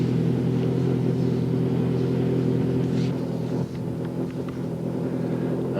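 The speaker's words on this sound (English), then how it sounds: "another special stage with Ari Vatanen taking his Citroen ZX away" Citroen ZX rally raid car on a desert special stage, its engine a loud steady low drone that eases slightly as it pulls away, with commentary over it.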